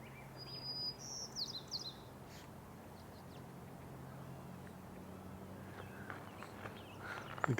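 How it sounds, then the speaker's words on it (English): Song sparrows sing in a marsh early in the morning: a few bright, quick chirping phrases near the start, then quieter calls over steady low background noise. "You can hear the song sparrows wide awake now."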